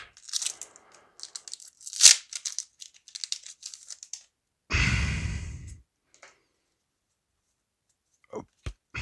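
Someone opens a small Pokémon Brilliant Stars booster pack up close, crinkling and tearing its foil wrapper in short, scattered bursts, with a sigh-like breath and a few light clicks between long quiet gaps.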